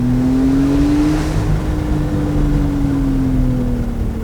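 A 2019 Porsche 911 Targa 4 GTS with sport exhaust holding a steady, loud engine drone on throttle, with a slight rise and fall in pitch, heard from inside the cabin.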